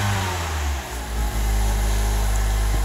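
A 2013 Mazda CX-5 engine revs up and settles after throttle body cleaning, a steady mid-pitched roar with a brief dip before climbing back to a sustained high rev, close by.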